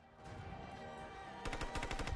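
Heavy gunfire from a SWAT team in the game Hitman Absolution, a steady roar of shots that breaks into a rapid, evenly spaced automatic burst, loud and close with no talk over it.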